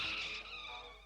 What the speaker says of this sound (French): j'entendis au loin le bruit de sa voiture